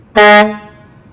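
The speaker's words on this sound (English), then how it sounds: "this is the air horn" A single loud, brassy air horn blast from a 2020 Freightliner M2 106 truck, short and harmonically rich, cutting off quickly with a brief ringing tail.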